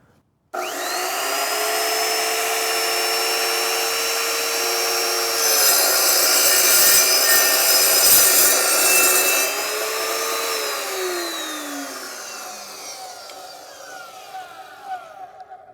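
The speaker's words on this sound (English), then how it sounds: "This is also using a stainless steel blade, so the cuts are pretty clean." A power saw with a stainless steel blade whines steadily for several seconds as it cuts through a 2015 Subaru WRX front end link, the pitch shifting midway before the blade spins down and trails off.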